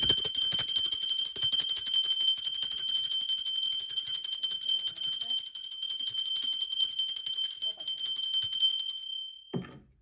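A bell rings with a sustained, bright, shimmering tone that holds steadily for about nine seconds before cutting off abruptly, heard alone without any voice.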